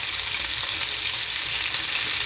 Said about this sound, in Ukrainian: Та обсмажую зараз з приправою і з сіллю. Ось так обсмажується курочка